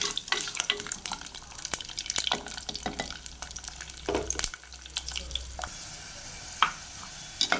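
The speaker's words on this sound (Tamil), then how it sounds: "பூண்டு கொஞ்சம் நேரம் வதங்கட்டும்." Garlic sautéing in a pan with curry leaves for a Tamil garlic curry, a steady soft sizzle with occasional stirring clicks and scrapes, close and moderately loud, no talking.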